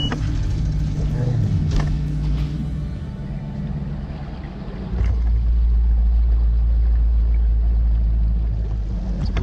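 A low, steady engine rumble of a bass-fishing motorboat idling on calm water near Kissimmee, Florida, close by, with a deeper throb swelling in the second half; wind and water noise on top.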